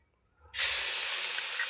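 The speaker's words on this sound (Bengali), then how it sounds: "ওই তেলের মধ্যে দিয়ে দেবো থেতো করে রাখা শুকনো লঙ্কা আর রসুন" Crushed dried red chillies and garlic dropped into hot oil in a kadai, bursting into an abrupt, loud hissing sizzle after a brief quiet moment and holding steady, with no voices.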